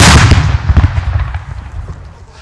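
A New Year's Eve Monster 100 firework battery going off up close, a rapid loud crackling burst of booming reports that fades out over a couple of seconds.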